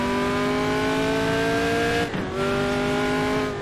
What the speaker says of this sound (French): Ah, le moteur a un bruit sympa.